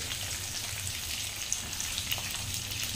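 Salted brinjal (eggplant) sautéing in hot oil with turmeric in a home kitchen, giving a steady, soft sizzle and crackle with scattered tiny pops, close and fairly quiet, with no talking.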